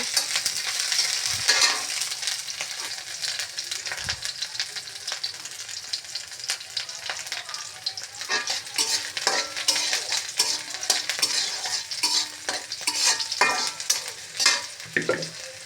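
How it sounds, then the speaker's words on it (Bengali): Ingredients for a mashed taro (maan kochu) dish fry in a pan until light brown, with a constant sizzle and busy, irregular spatula scrapes and knocks close by, no speech. "এটা একটু নেড়ে নিব, নেড়ে একটু হালকা ব্রাউন কালার করে নিব।"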